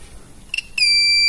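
A multimeter continuity tester beeps while probing the ground path to the body of a Wi-Fi router damaged by a lightning surge: a brief chirp, then a steady high-pitched tone that holds, close and clear, with no talk.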